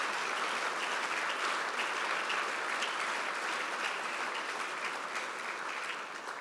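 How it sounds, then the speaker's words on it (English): Audience applauding the Covenant Church at an Nzukọ Ụmụnna community gathering: a dense, steady wash of many hands clapping that carries on unbroken and eases slightly at the very end. "let us pause and applaud the Covenant Church for bringing us together on this Nzukọ Ụmụnna gathering"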